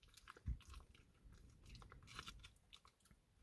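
Close, quiet chewing and biting on a piece of lukewarm chicken casserole at a desert campout, with a firm crunch-like bite near the start followed by softer mastication sounds.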